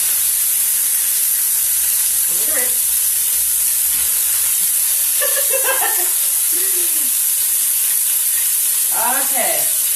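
Pork country-style ribs browning in a pan give off a loud, steady sizzle and hiss close by, with a voice speaking over it at intervals.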